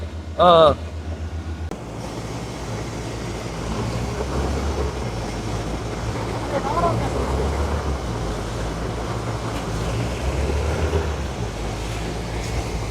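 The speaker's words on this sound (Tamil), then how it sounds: "ஸோ இப்படி தண்ணி வருதுன்றதே பாருங்க, நல்ல தண்ணி ஓரளவு வந்து கொண்டு இருக்கு." Water gushes from a newly drilled 100-foot borewell at a village home, a loud, steady broadband rush over a low mechanical drone, opening with a brief electronic beep.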